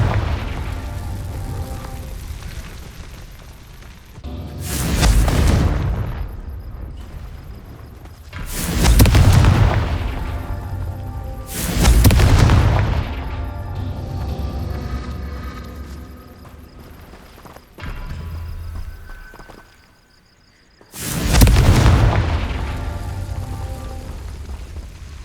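Fire spell explosions in the video game Hogwarts Legacy: five loud booming blasts a few seconds apart, each a sharp burst that decays into rumbling crackle, over a constant background rush.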